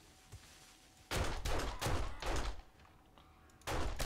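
Explosions in the zombie survival game 7 Days to Die burst out as a series of loud, booming blasts, four in quick succession and then one more after a short pause, with no talk.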